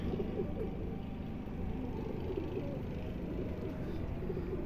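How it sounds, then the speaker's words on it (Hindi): Pigeons feeding on scattered grain coo softly in a low, continuous murmur, with faint background noise and no clear speech. "असल में ये कबूतर यहाँ पर दाना खा रहे हैं"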